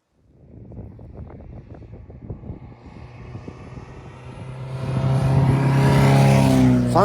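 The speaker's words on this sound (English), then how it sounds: "watch a couple of the pals just taking the cars through the paces, various classic cars" Classic cars lapping Castle Combe circuit, engines revving as one car approaches and passes, growing from a mid-distance drone to a loud, close roar near the end, with some wind noise.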